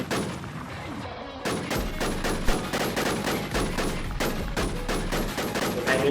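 Rapid gunfire rattles in a fantasy-style online shooter game, with dense bursts of shots following a brief pause, loud and continuous, while a player talks faintly underneath.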